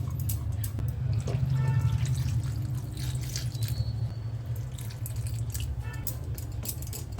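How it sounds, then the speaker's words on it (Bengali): Water poured from a vessel into a frying pan holding karonda fruit on a gas stove, a steady close splashing and trickling fill with faint dripping over a low burner hum. "এবারে জল দিয়ে দিই"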